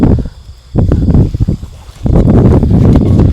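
Wind blowing across an outdoor shrine at night, gusting and buffeting a nearby microphone in rushing waves that fade and then swell again.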